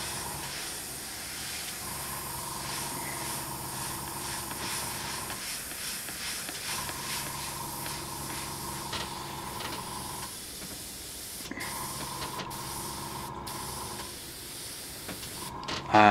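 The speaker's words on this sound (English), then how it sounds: "And now I'm going to spray a larger spray pattern now" An Iwata Eclipse HP CS airbrush sprays paint in a soft, steady hiss, with a faint hum running beneath it that cuts out in several brief pauses between bursts.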